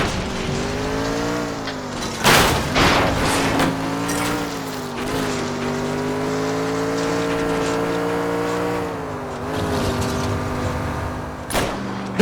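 A car engine revs hard and steady during a high-speed car chase in L.A. Noire, its pitch rising and dipping with gear changes, punctuated by several sharp tire squeals and skids.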